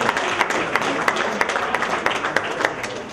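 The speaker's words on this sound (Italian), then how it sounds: "Un grande applauso a questi ragazzi che hanno lavorato molto molto bene." Applause for the dining-room staff of an upscale restaurant in central Turin: a small group clapping steadily and fairly close, dense overlapping claps throughout with no talk over it.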